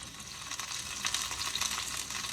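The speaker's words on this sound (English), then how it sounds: "as the lamb shanks are browning" Lamb shanks browning in a pan give a soft, steady sizzle with faint crackles and occasional stirring, fairly quiet and close, with no talking.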